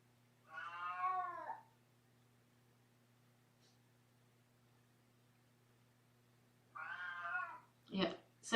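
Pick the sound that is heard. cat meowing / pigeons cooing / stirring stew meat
cat meowing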